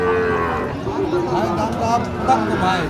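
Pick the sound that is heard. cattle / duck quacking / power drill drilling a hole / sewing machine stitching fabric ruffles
cattle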